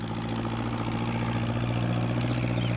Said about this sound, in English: What with the noise of the tractor, Peter Fogg didn't hear Pat's call.